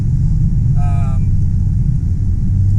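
A BMW 335i fitted with a single turbo runs on a dyno, giving a loud, steady low engine drone that fills the whole clip. A brief voice cuts in over it.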